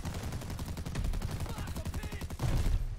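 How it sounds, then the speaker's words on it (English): Rapid machine pistol fire in Call of Duty: Vanguard, a fast continuous string of evenly spaced shots rattling for about three seconds, loud and close, with a heavier burst near the end. "I'm just shooting people through the flipping walls"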